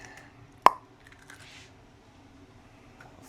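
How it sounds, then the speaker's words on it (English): An egg cracked into a small pan: a single sharp crack near the start, followed by faint soft handling noises in a quiet room. "Crack your egg."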